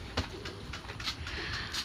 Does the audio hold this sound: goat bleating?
no